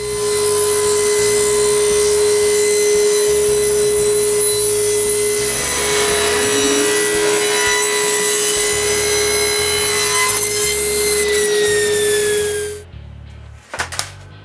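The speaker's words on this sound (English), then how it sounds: "Then each section is recut in thin equal strips, with the help of the guide I made earlier." Wood being ripped into thin, equal strips on a saw with a homemade guide for basket-making: a loud, steady, high-pitched blade whine lasting about twelve seconds, then cutting off and winding down, with a few faint knocks after.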